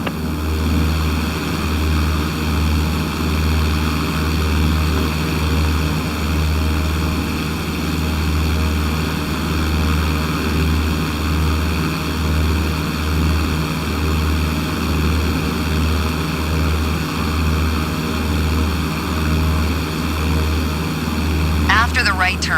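Propeller aircraft engine idling steadily while taxiing on the ground during flight training, a loud constant low drone with a pulsing rhythm and cockpit hiss, with an instructor talking over it.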